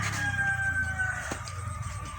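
A fighting rooster crows once, loud and near, followed by scattered clucking and faint crowing from other gamecocks in the background.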